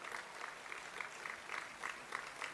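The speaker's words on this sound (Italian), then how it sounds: "Un applauso Ministro Calderoli." A live audience claps for Minister Calderoli at an Italian political event, a steady round of applause at a moderate, slightly distant level with rhythmic swells, no voices on top.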